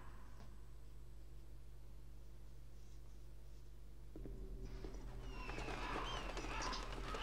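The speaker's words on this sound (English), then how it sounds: "Supposed to be crows." Crows or ravens in the Metal Gear Solid video game, faint cawing and chattering bird calls that rise in the last few seconds over a low steady hum.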